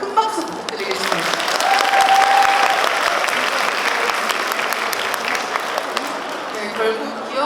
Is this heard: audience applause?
yes